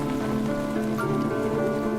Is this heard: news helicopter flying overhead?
no